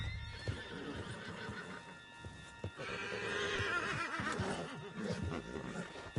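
A horse in Red Dead Redemption 2 whinnies and snorts while hooves clip-clop beneath, close and fairly clear, with a longer neigh swelling in the middle amid game ambience.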